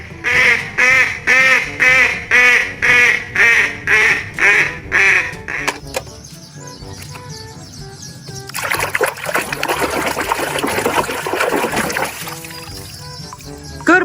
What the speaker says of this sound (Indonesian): Bebek angsa.